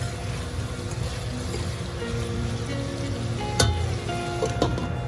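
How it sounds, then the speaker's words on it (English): Potatoes for Bengali aloo poshto sizzle steadily in a pan, with a continuous close frying crackle and a few sharper scrapes and clatters as they are stirred, no voices. "We're covering it back again after giving it a nice stir and wait for it to cook some more"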